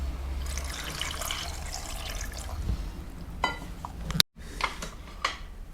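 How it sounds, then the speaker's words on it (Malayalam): Water is poured into a clay pot of mussels, giving a soft, close trickle and splash followed by a few sharper clinks and drips near the end. "ഇനി വെള്ളം ഒഴിക്കാം."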